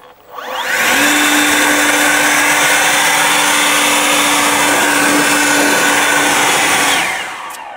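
A battery-powered EGO 56V leaf blower spins up, holds a loud, steady whooshing roar with a whining tone for several seconds, then winds down.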